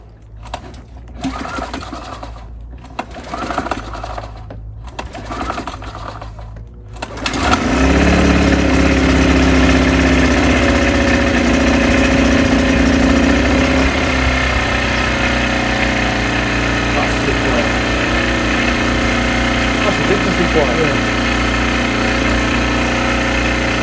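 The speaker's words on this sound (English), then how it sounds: "I'm going to give it a gentle couple of pulls first, just to get some oil around it and get some fuel into it." An Impax IM1000SIG 1000W inverter suitcase generator is given a few recoil pulls with rhythmic whooshing cord strokes, then fires up and runs with a loud, steady close-up engine drone that settles into an even idle.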